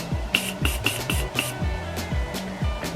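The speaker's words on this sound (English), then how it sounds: "I'm gonna spray my sponge a little bit more" A spray bottle pumped in quick bursts onto a makeup sponge, about six short spritzes in a loose rhythm, close to the microphone with a faint mechanical clicking.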